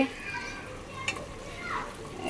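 Meat being stirred into fried masala in a pot for biryani, a low sizzle with a faint scrape or two, quiet and close, with a voice and background chatter around it.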